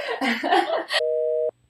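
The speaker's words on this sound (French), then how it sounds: "C'est un téléphone des années 80." A steady electronic tone from a 1980s telephone holds for about half a second and cuts off abruptly, right after a burst of voices and laughter.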